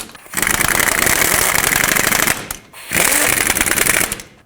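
An impact wrench or power tool on a 2008-2010 Ford F-250 front end snugs down wheel bearing mounting nuts in a cross pattern, giving two loud, sustained, rattling bursts separated by a short pause.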